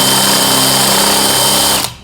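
A 5/16 bit drills straight through an aluminum extrusion, a loud continuous whining grind of the power drill at close range, cutting off abruptly near the end.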